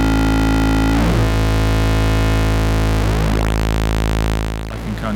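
Saw wave through a Ubique flanger from Manifold Research Centre, set to high feedback, a loud continuous buzzing drone with resonant sweeping comb tones that rise and dive as the frequency is swept.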